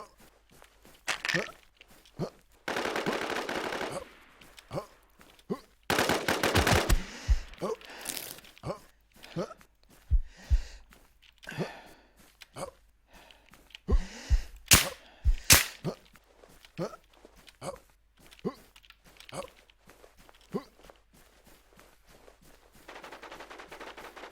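VSS rifle gunfire in the Infestation shooter game: repeated sharp shots and short bursts scattered throughout, some loud close cracks among fainter ones, with footsteps and speech between volleys.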